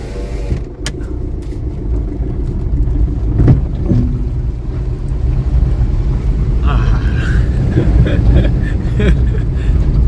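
A car driving through floodwater flowing over a small bridge, with a steady broad rush of water and low engine rumble throughout, and people talking over it.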